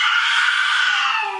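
A baby screams in one sustained, loud, high wail that holds steady, close by, with no talk over it.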